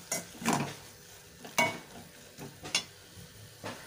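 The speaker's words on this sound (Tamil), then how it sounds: "தக்காளி வெங்காயம் நல்லா வதங்கிட்டுருக்கு பாருங்கள்" Tomato and onion sautéing with turmeric in a pan for tomato soup, with a soft background sizzle and intermittent scraping stirs of a utensil against the pan, close but fairly quiet.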